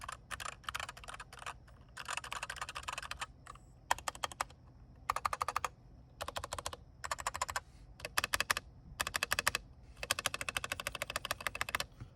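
Close, crisp clacking of a Keychron V8 mechanical keyboard being typed on in quick bursts separated by short pauses.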